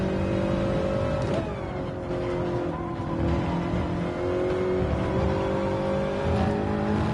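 A Toyota 86 engine in a racing video game, revving steadily and loudly with rising and falling pitch over a continuous drone, close and alone without talk.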